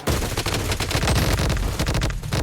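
Dense, rapid automatic gunfire in a battle royale video game, loud and continuous bursts crackling without pause.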